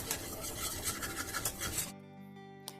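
Butter and all-purpose flour stirred together in a pan give a steady rasping, scraping rub for about two seconds, then it stops abruptly into near silence.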